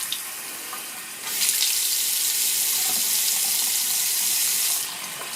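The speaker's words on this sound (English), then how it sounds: "now we're ready to turn the water on" Water runs from a newly installed bathroom faucet in a steady hiss. The flow surges louder after about a second, holds steady, then eases off near the end, with no talking.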